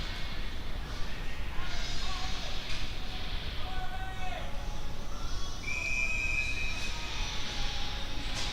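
A referee's whistle at a men's ACHA Division 1 ice hockey game against Canisius gives one sustained, shrill blast partway through, over steady rink and crowd noise.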